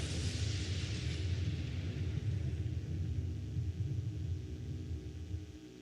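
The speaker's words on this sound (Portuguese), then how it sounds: "Os barulhos de trovões." Deep, sustained thunder rolling steadily and heavily for several seconds, then fading slightly toward the end, with no voices.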